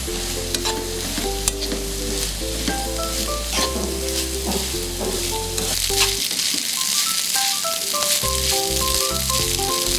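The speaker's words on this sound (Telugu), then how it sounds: "ఇందులో రైస్ యాడ్ చేసుకోవాలి. రైస్ పట్టేలాగా కలుపుకోవాలి." Rice being stirred into mint masala in a frying pan for mint rice biryani, with steady scraping and a soft sizzle running throughout beneath continuous background music.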